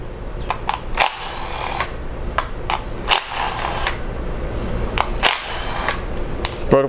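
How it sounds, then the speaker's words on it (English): A 10 mm socket on a ratchet removing ignition coil bolts from a Jeep 2.4 Multiair engine, giving scattered sharp metallic clicks and ticks at close range over a steady low background. "we can go ahead and remove the ignition coils now with a 10 millimeter socket"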